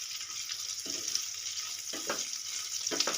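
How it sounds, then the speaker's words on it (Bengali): Boiled bitter gourds fry in hot oil with a steady, hissing sizzle, broken by several soft scraping strokes as a spatula stirs them in the pan. "আর দু মিনিট আমি এরকম নেড়ে চেড়ে ভেজে নেব"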